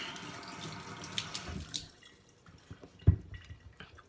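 Water runs from a tap onto a Japanese sharpening stone (oozuku koppa) during a kamisori razor refresh, a steady splashing stream that stops partway, followed by scattered close drips and small knocks.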